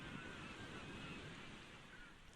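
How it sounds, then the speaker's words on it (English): Waves crash continuously as an added background effect for a sailing scene in GTA 5, a steady wash of surf and wind filling the whole stretch with no distinct breaks. "I've decided to add some sound effects in the background of the waves crashing"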